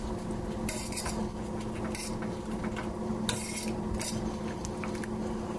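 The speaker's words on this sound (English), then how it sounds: "We're going to stir the sour cream mixture in." A spoon stirs a sour cream mixture into a pan of sautéed mushrooms and cream sauce, scraping and clinking against the metal in a steady close rhythm over a faint background hum.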